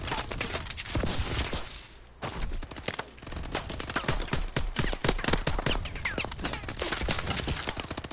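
Rapid pistol shots fire in the Exo Survival video game, loud close bursts of sharp cracks repeating in quick irregular volleys with a short pause near the start.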